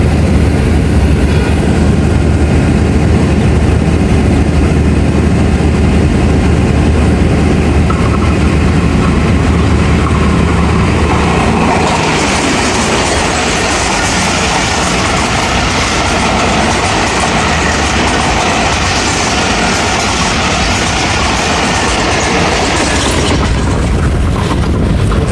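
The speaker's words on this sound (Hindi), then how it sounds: "ले जी 8 टाउन तेज़गाम आ रही है।" The Tezgam express thunders past on a Pakistani railway line, a loud sustained roar of engine and rolling wagons with rhythmic clickety-clack that fills the whole stretch, heard up close from a passing train.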